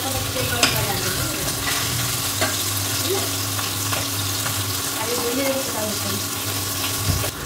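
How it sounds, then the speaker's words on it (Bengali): Tilapia rubbed with salt and turmeric frying in hot oil, a dense steady sizzle that runs throughout with occasional clinks and a low hum beneath. "তেলাপিয়া মাছটা লবণ হলুদ মাখিয়ে ভাজতে বসিয়ে দিয়েছি।"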